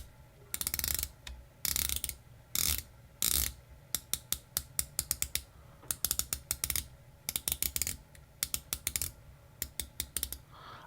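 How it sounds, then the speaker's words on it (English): The 120-click bezel of a Borealis Bull Shark V2 dive watch is turned in quick bursts, crisp ratcheting clicks very close and distinct, with pauses between runs and no voices. "the bezel is 120 clicks, so let's hear that."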